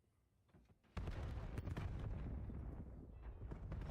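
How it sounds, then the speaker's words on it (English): Grenade explosions in a Call of Duty League match, a dull rumbling blast that swells suddenly and rolls on with scattered crackling, heard quite faintly. "All nades hitting mid."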